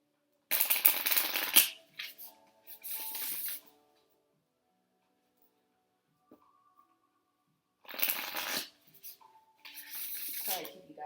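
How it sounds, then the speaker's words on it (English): A deck of cards is shuffled for a reading, with loud, close riffling bursts, a pause of near silence, then more shuffling and sliding of cards. "waiting, but I didn't shuffle this deck beforehand."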